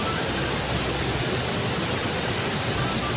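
Water rushing from a half-metre opening of one of the 36 gates at Gose dam, a loud, dense, unbroken roar that stays steady throughout.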